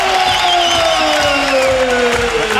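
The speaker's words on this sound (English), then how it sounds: "Hear the crowd." Loud, steady crowd noise fills a kickboxing event arena, a continuous roar of cheering with no breaks, heard up close for a few seconds.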